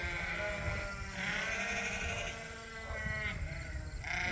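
Sheep bleat outside in a backyard on a sheep farm, several drawn-out, wavering calls overlapping one another, close and clear.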